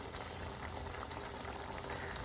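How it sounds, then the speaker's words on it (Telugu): A pot of sesame lentil and mango curry bubbles at a steady simmer, a faint, even burble of boiling liquid throughout with no voices. "చూడండి ఎలా ఉడుకుతుందో"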